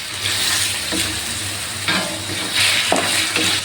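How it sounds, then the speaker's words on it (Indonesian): Chicken stir-fried in a hot pan for a sayur of bitter melon and cassava leaves, a steady close sizzle broken by repeated scraping strokes of a spatula, with no talking. "di sini kita oseng-oseng sebentar biar ayamnya itu kelihatan layu ya"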